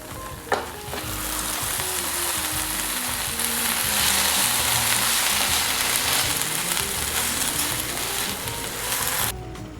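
Aromatics and tomato paste sizzle and fry steadily in a single pan, a loud continuous crackle with occasional stirring scrapes throughout.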